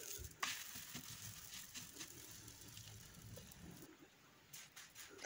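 Food sizzles and crackles in a lightly oiled frying pan, a quiet steady fry with a few sharper clicks and scrapes as the pieces are turned.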